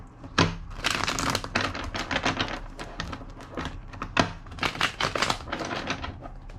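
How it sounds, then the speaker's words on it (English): A deck of tarot cards is shuffled by hand, with repeated riffling bursts and sharp taps as the cards are cut and squared, close and clear with no talking. "2 more shuffles."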